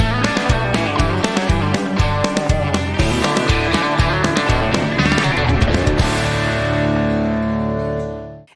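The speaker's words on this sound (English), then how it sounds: "So I have this country track that sounds like this." A country music track plays back from a digital audio workstation, a full band mix with steady rhythmic beats and sustained tones at constant level, ending in a ringing decay over the last couple of seconds.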